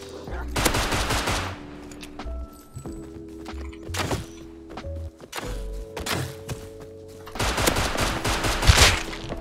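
Bursts of gunfire from the survival game Rust, rapid volleys and single shots in clusters, loud and close, with thuds between the shots and a heavy final flurry near the end.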